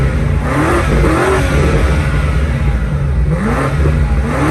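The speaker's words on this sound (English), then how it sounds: "There's no soft limiter on this car. It'll let you rev it up all the way," A 2025 BMW M5 G90 V8 revs hard with no soft limiter, loud and close, the engine note sweeping up and falling back twice in quick succession.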